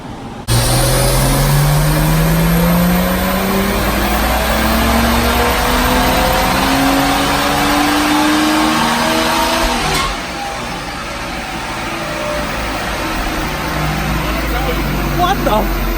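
A JB4-tuned BMW M235i on 93 octane, map 2 at about 14.5 psi, pulls hard on a dyno, its engine note climbing steadily for several seconds before lifting off, then settling and idling loudly nearby.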